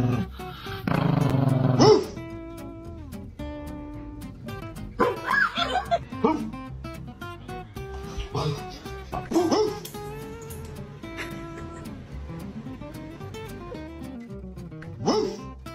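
A dog barks and growls in scattered bursts, with some deep, roaring yelps and quiet gaps between them.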